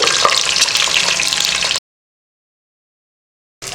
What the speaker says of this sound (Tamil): குக்கரில் எண்ணெய் ஊற்றியிருக்கேன் அதில் முட்டையை வறுத்துக்கலாம்